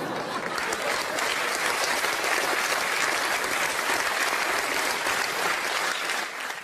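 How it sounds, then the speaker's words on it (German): A theatre audience gives a sustained, dense burst of applause throughout a cabaret performance, steady and full before tapering slightly at the end. "Applaus"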